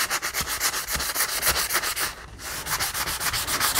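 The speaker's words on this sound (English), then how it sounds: "Maybe I need a tougher sanding block." A sanding block works the edge of a handmade hard-cover notebook in fast, rhythmic back-and-forth strokes, a close, raspy scraping that pauses briefly midway and then resumes.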